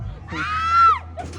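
A single loud, sustained, high-pitched human scream at a resort, rising and then falling away, with faint crowd noise around it.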